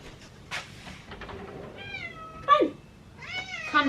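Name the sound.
cat meowing to be let in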